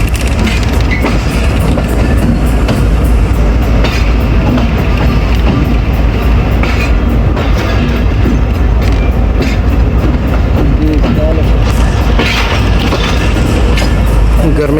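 The Karachi Express from Multan to Lahore rumbles loudly and steadily with a dense, continuous roar of wheels and carriage noise, close and unbroken for the whole stretch.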